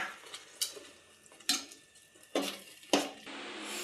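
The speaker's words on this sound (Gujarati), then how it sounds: "હવે આપણે થોડીક વાર હલાવશું તો આપણું લાડવાનું મિક્સ તૈયાર થઈ જશે" Spoon scraping and clinking in a pan while coconut laddu mixture of thickened milk is stirred, a few sharp knocks spaced over a few seconds against a quiet background.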